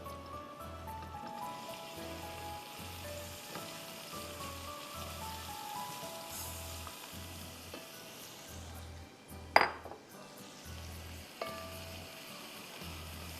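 Chopped onion frying in a pan until light golden, a steady soft sizzle like light rain running throughout, with a couple of brief clinks of a utensil near the end.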